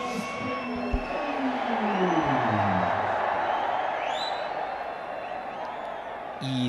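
A cricket crowd at a Nepal versus West Indies A match roars in a sustained, loud cheer, with a commentator's voice over the top.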